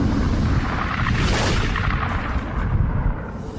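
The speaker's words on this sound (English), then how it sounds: "pulsars are formed in these incredible explosions" A deep, rumbling blast of a star exploding in a supernova swells to a roaring peak, then rolls on as a heavy, sustained boom with no voices.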